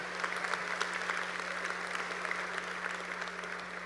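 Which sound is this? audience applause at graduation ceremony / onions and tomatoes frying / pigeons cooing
audience applause at graduation ceremony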